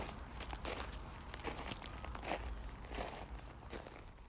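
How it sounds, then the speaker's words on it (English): Foley footsteps on gravel: a steady run of crunchy, gritty steps at close range, each footfall a short crackling burst with no talk. "This could be footsteps in the gravel,"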